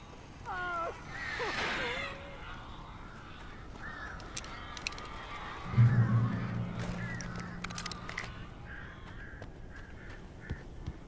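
Birds cawing in the video game Alan Wake, loud, harsh crow calls repeating over ambient noise, with a distinct close caw in the middle and a brief voice at the start.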